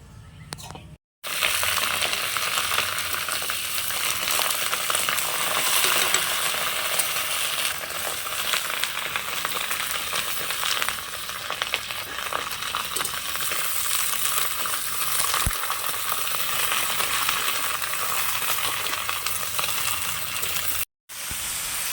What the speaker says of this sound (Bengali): ফুলকপিটা নুন আর হলুদ দিয়ে ভেজে নিচ্ছি একটু